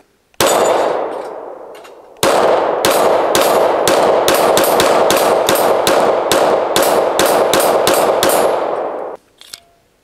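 A SIG P365 Macro pistol fitted with a Mischief Machine Commander metal grip module fires a long string of loud, sharp shots at an irregular but quick pace, with ringing echoes between them and a few scattered shots at the end.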